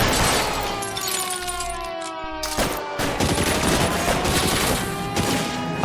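Gunfire in L.A. Noire is aimed at the player, rapid shots cracking close and loud alongside what sounds like breaking glass, over a steady music bed, with no talking.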